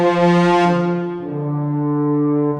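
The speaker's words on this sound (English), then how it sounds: "when you push them hard, you get this nice blast and a good bit of drama from them" Orchestral horns from the Vienna Symphonic Library Special Edition, pushed hard into an edgy brass blast: a loud, bright sustained chord that flares at first, then eases into a steady held tone, alone without talk.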